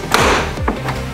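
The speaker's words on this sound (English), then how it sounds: "Once you hear that, you know it's the panel is being released from the door." A plastic retaining clip on a car door panel pops loose during removal, a sharp pop or snap near the start with another quick knock shortly after, close and fairly loud.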